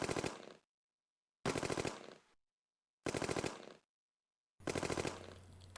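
Enemy German soldiers firing in the Close Combat wargame: four short, evenly spaced bursts of rapid rifle and machine-gun fire, each cut off by silence, fairly faint and sounding somewhat distant.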